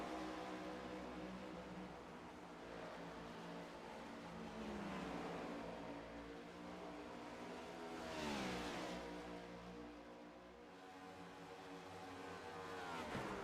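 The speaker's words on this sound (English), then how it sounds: "Boy, there's a pack of cars here." A pack of race cars at Dover in a sim racing game, their engines droning and revving together in a steady, layered roar. Several cars pass close with rising and falling pitch, and no voices are heard.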